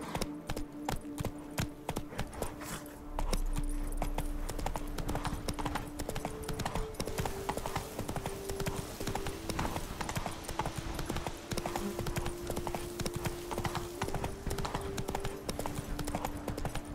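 Roach the horse galloping in The Witcher 3, rapid rhythmic hoofbeats clip-clopping steadily over a soft background, with an occasional brief snort.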